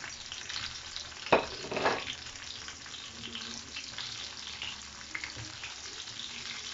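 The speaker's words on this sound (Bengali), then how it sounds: "দিয়ে একটু ফ্রাই করতে হবে" Green chillies fry in a pan with a soft, continuous sizzle, broken early on by a couple of sharp clatters of stirring or handling, all heard close up.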